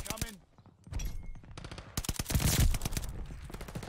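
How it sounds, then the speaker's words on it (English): Friendly mortar and gunfire in the Call of Duty Vanguard shooter game: loud bursts of rapid shots and heavy blasts crowding together, with a short lull before a dense volley of impacts. "Friendly mortar fire coming."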